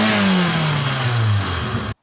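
Engine of a race car on a track day build, running a pod filter fitted straight onto the throttle body, revving loudly and close with a falling intake drone before cutting off abruptly.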